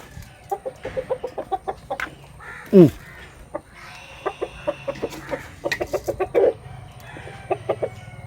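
Free-ranging native country chickens cluck in quick short bursts while feeding, with one louder squawk partway through and occasional softer calls nearby, close to the listener and with no talking.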